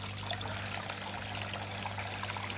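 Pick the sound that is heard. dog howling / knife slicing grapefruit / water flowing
water flowing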